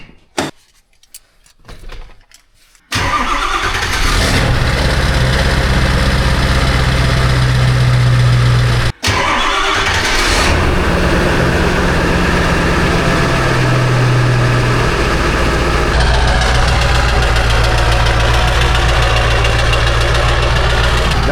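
Diesel pickup trucks, a 6.0 and a 7.3 with six-speed transmissions, cold start after about three seconds of quiet. A loud, steady diesel idle with knocking follows, briefly cut once, and runs nearby without talk.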